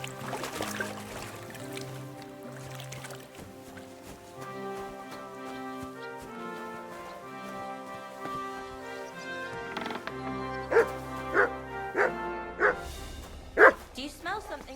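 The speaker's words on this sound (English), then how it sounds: "What's gotten into that dog?" A dog barks and yips in a medieval village in Kingdom Come Deliverance 2, a burst of several sharp barks near the end following whimpering, set over game music.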